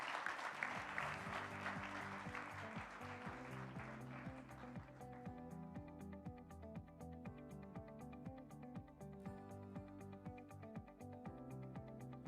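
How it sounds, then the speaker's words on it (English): Audience applause at the Clinton Global Initiative 2025 Leaders Stage, a broad wash of clapping over upbeat stage music that thins out after a few seconds, leaving the music playing on its own. "Can we give them another round of applause?"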